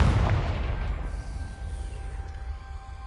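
A single heavy blast from the Confringo spell in Hogwarts Legacy hits hard at the start, then rumbles and fades away over a few seconds with a faint ringing tail.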